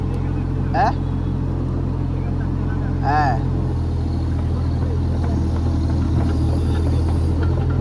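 A mini JCB grinds along a badly damaged road in a steady, close, low diesel rumble, with brief voice sounds over the engine.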